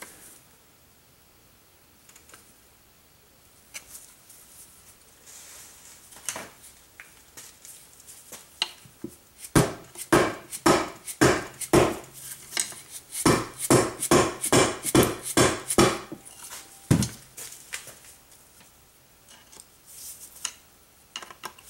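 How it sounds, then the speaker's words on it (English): A large screwdriver pries at a part on a 1999 Jeep Grand Cherokee Laredo transfer case during teardown, producing a run of sharp metallic clicks and taps that grows denser and louder midway, then thins out. "you'll want to go ahead and use that pry point. With a little bit bigger screwdriver."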